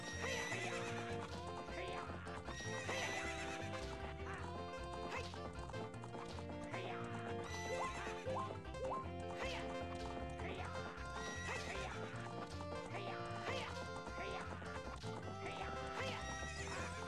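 Horse neighing and hoof clip-clop from the video game The Legend of Zelda: Ocarina of Time, set against loud continuous game music that runs the whole time.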